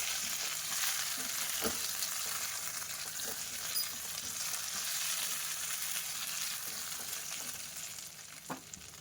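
Stuffed capsicum being gently stirred in a pan gives a soft, continuous frying hiss, with a few light scrapes and taps of the spoon. No voices, and the sizzle eases slightly toward the end.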